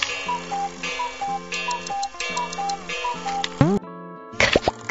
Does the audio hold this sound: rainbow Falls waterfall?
no